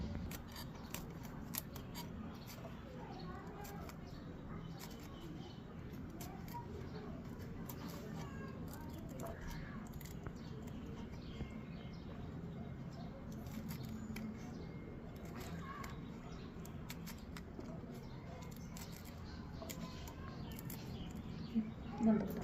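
Green chillies are chopped into small pieces with a knife in a home kitchen while making lentil fritters, giving repeated soft crisp cuts under a steady background hum.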